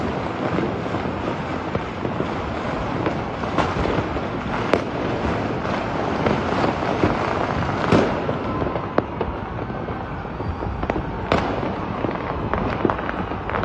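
Firecrackers and fireworks burst repeatedly at a street celebration after RCB's IPL win, a dense rolling crackle of overlapping bangs with sharper louder cracks standing out, continuous and fairly near.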